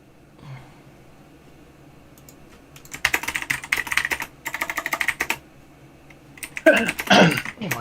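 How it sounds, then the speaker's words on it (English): Close, loud clacking from a mechanical computer keyboard comes in fast bursts of keystrokes separated by short pauses, with a brief throat-clear near the start and no speech. "My keyboard's loud when I'm typing."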